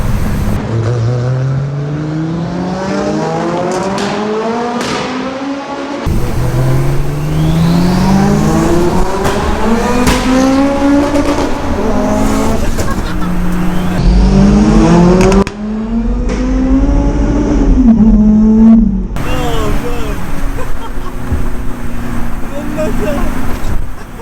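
A 700BHP Nissan Skyline R33 roars in a tunnel, loud and echoing, with repeated rising rev sweeps and gear changes through heavy reverberation and some voices in the background.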